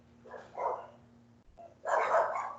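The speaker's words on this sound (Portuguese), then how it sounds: "o barulho dos cachorros?" Dogs barking at a distance in two separate bursts, a shorter one early and a louder, fuller volley near the end, over a faint steady hum with no talk.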